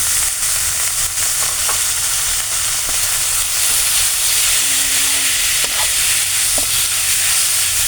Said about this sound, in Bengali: পেঁয়াজ ভাজা হয়ে গেছে, শাক ভাজাটা এখন আমি দিয়ে দেব